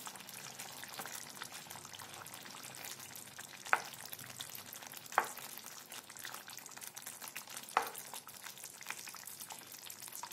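Suran (elephant foot yam) masala sizzles and fries steadily in a pan over low heat, with a soft continuous crackle and three sharp spoon clicks against the pan as it is stirred.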